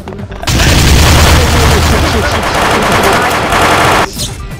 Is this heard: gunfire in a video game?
yes